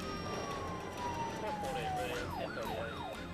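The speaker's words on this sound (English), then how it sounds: "At this time, I activated my lights and siren." A police car siren wails, sweeping up and down in repeated arcs, loud and close, over steady road and engine noise with some background talk.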